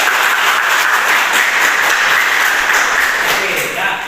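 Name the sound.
audience applause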